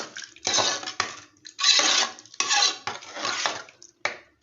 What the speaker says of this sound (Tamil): இதை அப்படியே நம்ம நல்லா மிக்ஸ் பண்ணிக்கலாம்